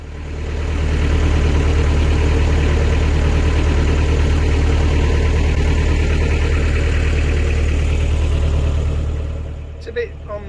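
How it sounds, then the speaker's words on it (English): A loud, steady, smoky canal boat engine thrums and knocks at idle for most of the clip on the Lancaster Canal, close by, fading slightly near the end. "with that smoky engine, we decided it was best we pull over."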